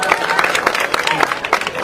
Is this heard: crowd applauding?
yes